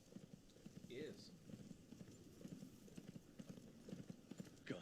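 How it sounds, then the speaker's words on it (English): A horse's hooves clip-clop steadily in a desert setting, a faint, uneven rhythmic patter of hoofbeats under a low background murmur, with a brief high whinny-like call early on. "Horse."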